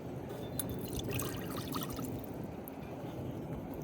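White vinegar, Worcestershire sauce and hot sauce pour into a cooking pot for homemade barbecue sauce, a soft continuous liquid splash and trickle heard faintly and close, with no talking.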